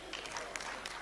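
An audience claps at a Surendra Sharma performance. A brief, faint patter of scattered clapping comes from a crowd.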